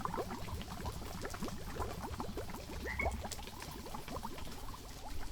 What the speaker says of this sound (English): Maybe they were scared of the fizzing water.